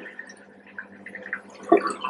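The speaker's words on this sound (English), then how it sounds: "Let the water run out." Water drains out of a sink after a rinse of wool yarn, a quiet, sparse trickle with soft gurgles and one louder glug near the end.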